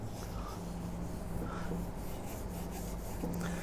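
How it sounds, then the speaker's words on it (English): Salt is rubbed by hand into a raw tilapia fish, giving a soft, continuous gritty scraping that stays faint and close for a few seconds. "We're gonna put maybe like 4 tablespoons on this fish. I'm gonna rub that in."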